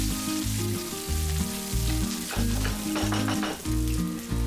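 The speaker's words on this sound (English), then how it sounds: "then fry the onion until nice and soft." Onion frying in a pan with a cinnamon stick, star anise and green chili, a steady loud sizzle with stirring scrapes running throughout, with background music over it and no talking.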